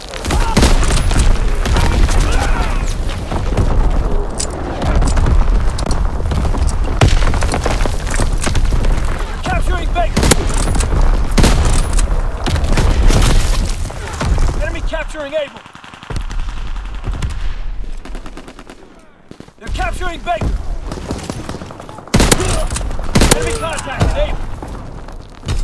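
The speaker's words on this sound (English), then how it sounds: "Incoming enemy artillery!" Incoming artillery barrage in the WWII shooter Enlisted, on the Shipment 1944 map: dense, loud explosions and constant gunfire rumble on, with a brief lull mid-way before more blasts, under game voice callouts.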